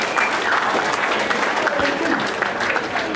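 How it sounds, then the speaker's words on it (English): Guests at a 21st birthday party applaud and cheer together, a dense, steady wash of clapping and crowd noise that stays close and loud throughout. "Please make some noise for Belle Hanrahan"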